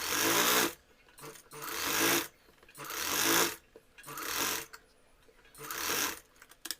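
Sewing machine stitching sleeve fabric, running in four or five loud bursts of rapid mechanical whirring, close by, with brief quiet gaps between runs.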